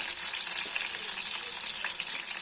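Amodi fish fry in hot oil in a pan with a steady, bright sizzle that stays even throughout, close by and with no talk.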